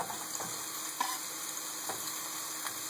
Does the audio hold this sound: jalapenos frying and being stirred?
yes